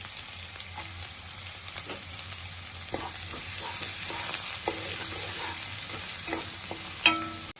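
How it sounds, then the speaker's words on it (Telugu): Green chilli and onion pieces fry in a pan with a steady sizzle, with occasional stirring clinks and scrapes and a brief louder clatter near the end. "పచ్చిమిర్చి ముక్కలు, ఉల్లిపాయ ముక్కలు కూడా వేసుకుందాం."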